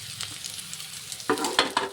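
Potatoes and onions are stirred together in a frying pan, a low sizzle running throughout with a few loud scraping, clattering spoon strokes toward the end.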